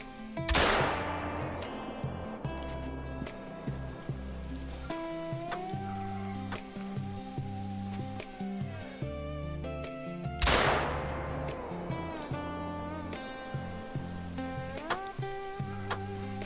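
Two loud, sharp shotgun blasts about ten seconds apart at a shooting range in theHunter: Call of the Wild, each ringing out over a steady musical background.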